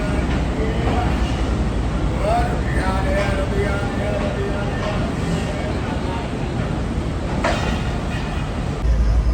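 The Khushal Khan Khattak Express rolling into Kotri Junction on an overnight Karachi to Sehwan run, with a continuous rumble of wheels and carriages and a brief squeal, while a voice talks over the noise.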